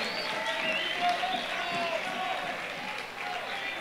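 A concert audience in Guatemala City claps and cheers in a dense, continuous wash of applause, with voices mixed in throughout.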